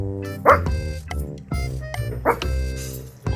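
Two Shih Tzus bark repeatedly at close range, sharp yips and high barks mixed with whiny whimpers, demanding treats indoors, with a person's voice faintly in the background.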